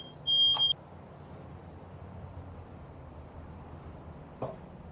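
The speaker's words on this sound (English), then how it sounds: "That beeping is scaring the shit out of my dog." Short electronic alarm beep, a loud burst of a few rapid tones near the start, over a low steady room hum with a faint click later.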